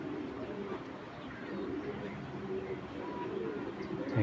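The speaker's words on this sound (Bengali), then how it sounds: "একটা চুইটাল মিলি রেসার মাদি কবুতর" A big-sized Chuital Mili racer racing pigeon, a female, coos softly amid a steady low rumble of background noise, with no clear speech over it.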